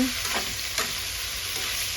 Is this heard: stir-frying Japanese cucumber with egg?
yes